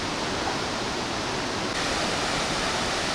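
Steady broadband roar of Kiat Oak waterfall on the Bolaven Plateau, a dense continuous rush of falling water filling the sound close up, with no voices.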